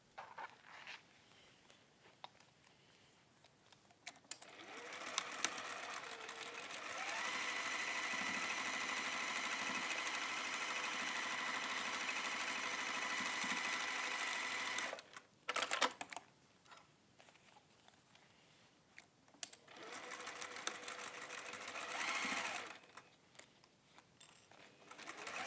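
A sewing machine stitches down both sides of a straight-clasp jewellery pouch in two long steady runs, separated by a short pause, whirring close and alone.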